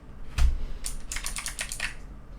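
Typing on a Razer Huntsman V2 keyboard with purple clicky switches: one heavy key thud followed by a quick burst of sharp, crisp clicks, close and clear with no talk.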